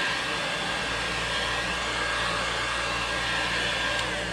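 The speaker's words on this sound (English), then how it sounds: "I like using a hair dryer because this heat gun gets pretty hot" A hair dryer blows air to dry airbrushed paint on a window, a continuous, steady whooshing drone close by and at even loudness throughout.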